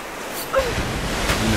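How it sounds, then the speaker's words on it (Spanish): Water rushes in through a broken wall in the Rise of the Tomb Raider video game, a broad steady surging roar that swells slightly, with a faint voice underneath. "Rompo aquí. Y así el agua entra."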